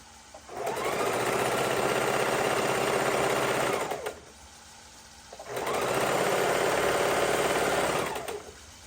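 A sewing machine stitches straight down a baby quilt's border with a quarter-inch seam, running in two steady bursts of about three and a half seconds each, with a short pause between them and no talking.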